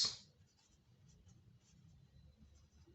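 Pen or marker writing on a board during a math lecture on number theory, a soft, steady scratching stroke after a brief sharp onset, close and quiet, with no talking.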